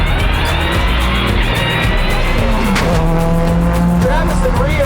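Subaru rally car driven by Pastrana with co-driver Rhianon Gelsomino launching from a stage start, a loud engine roar climbing through revs with tire squeal and a gear-shift dip partway, dense and close throughout.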